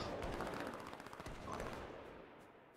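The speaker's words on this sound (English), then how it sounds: "but that's a lot of gunfire." Rapid bursts of distant automatic gunfire in the video game H1Z1 crackle in quick succession, fading toward the end.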